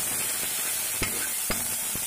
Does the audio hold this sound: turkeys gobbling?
no